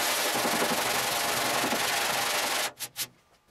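Steady, harsh sanding of body filler on a car panel, a continuous gritty rasp that stops abruptly, followed by a few brief rubbing strokes.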